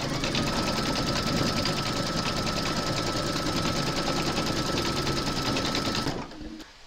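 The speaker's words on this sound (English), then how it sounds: "Then you're going to pop your hoop into your machine and stitch round number 8, and that's going to secure your fabrics." An embroidery machine stitches applique fabric held in a hoop, a loud, steady rapid whirring chatter close by that runs continuously, then stops abruptly near the end.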